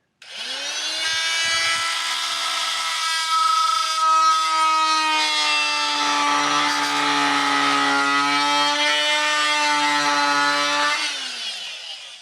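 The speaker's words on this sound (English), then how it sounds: "I found an oscillating saw that I had laying around, and it kind of does the job pretty well" An oscillating saw cutting the baffle of a Harley oil pan gives a loud, steady buzzing whine that holds for about eleven seconds with slight shifts in pitch, then cuts off.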